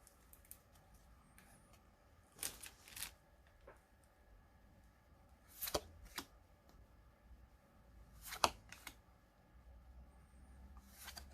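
Yu-Gi-Oh cards from a booster pack are shuffled and slid against each other in a few soft, close bursts of papery rustling, separated by quiet gaps.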